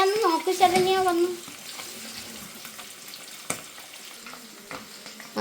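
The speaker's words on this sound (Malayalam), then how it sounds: "ദേ ഇവിടെ മീൻ വറുത്തോണ്ടിരിക്കുകയാണല്ലേ" Fish frying in a pan in a home kitchen, a soft continuous sizzle that runs under a voice at the start, with a running tap and dishes being washed nearby.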